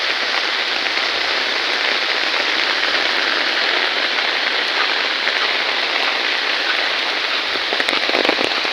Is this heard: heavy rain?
yes